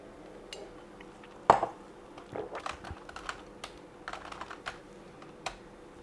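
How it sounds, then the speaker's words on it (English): Typing on a computer keyboard during late-night Seagate SAS drive testing, a close, irregular patter of key clicks with one sharp louder clack, short bursts separated by pauses. "Getting tired of typing this."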